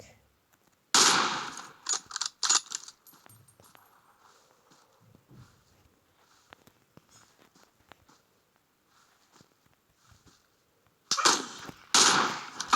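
Gunfire in the battle royale game PUBG Mobile, with a dense burst of rapid shots near the start and another volley at the end, separated by a quiet stretch of faint in-game sounds; no one talks over the shots.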